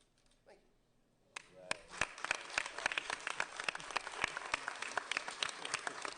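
Brief murmuring gives way to a burst of steady applause from attendees at a county commissioners' board meeting, with many sharp claps at moderate volume continuing to the end.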